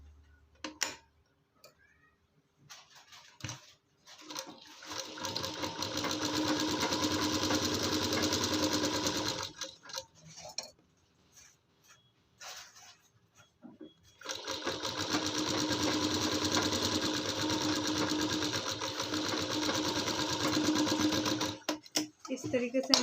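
A sewing machine stitches a lining into a child's kurti in two long steady bursts of rapid mechanical ticking, close and loud, with quiet pauses and brief handling sounds between them.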